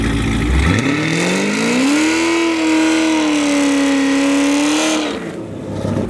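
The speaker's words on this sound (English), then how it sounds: "I'm gonna see if we can get him to do a burnout real quick" A Chevrolet Corvette C6 performs a burnout, its engine revving hard and rising in pitch before holding a loud, sustained roar for several seconds, then dropping off as tire noise lingers.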